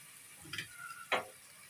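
Two medium potatoes, cut up, go into hot oil for matar pulao, giving a soft low crackle with a couple of short splashy bursts as the pieces land.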